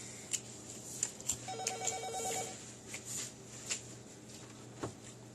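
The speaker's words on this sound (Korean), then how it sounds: "전화 왔다." A telephone rings quietly in a room, sounding in repeated short bursts over soft background rustling and thumps, with no talking.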